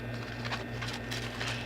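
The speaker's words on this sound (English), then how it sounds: "My fan's on and it makes a really weird noise." A low, steady electric hum with faint wavering whooshes and a slight buzzing undertone, like a fan running nearby, quiet and continuous.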